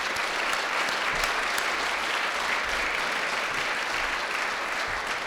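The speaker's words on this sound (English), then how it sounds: "Let's give a round of applause to all of you." Audience applause at a town's inaugural council meeting for newly elected councillors, a sustained, even wash of clapping from a seated crowd, loud and steady with no speech over it.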